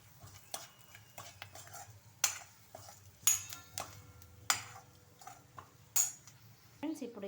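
A metal spoon stirs salt and chili powder into a pan of murmura upma, scraping and clinking against the pan in irregular strokes with sharp taps, over a faint sizzle.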